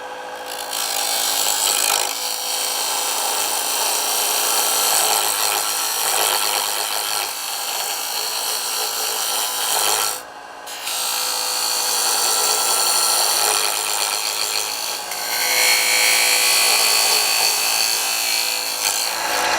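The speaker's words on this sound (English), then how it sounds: "The next thing we're going to do is cut a tenon on each side of our stock." Loud, continuous scraping hiss of a turning tool cutting a tenon into spinning wood stock on a lathe, steady and close with one brief pause midway.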